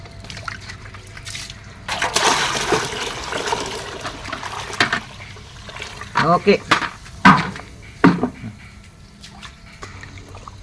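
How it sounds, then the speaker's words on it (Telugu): Water poured from a mug into OWDC liquid fertiliser for plants, a gushing pour of a couple of seconds followed by several short splashes and sloshes, close by, with a person speaking briefly. "ఇప్పుడు చూసారా వాటర్ మిక్స్ చేద్దాం"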